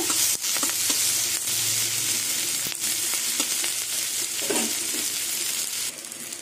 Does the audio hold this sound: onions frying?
yes